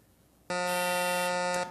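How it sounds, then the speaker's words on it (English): A loud, steady electronic buzzer sounds once for just over a second after a short quiet lead-in, then cuts off: the out-of-time buzzer on a quiz show. "Believe the out-of-time buzzer was first here with this one."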